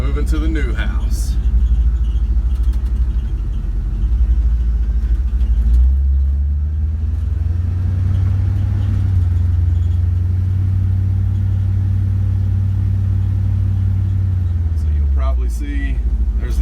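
A truck rolling along a road, heard from inside as a steady low engine rumble and road drone with a few handling knocks, strengthening in the middle and easing toward the end.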